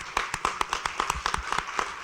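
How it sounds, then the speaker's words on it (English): A small group claps for staff at the close of an innovation summit panel, with a sparse, rhythmic patter of individual claps that are fairly close and moderately loud. "Can we just give them a round of applause?"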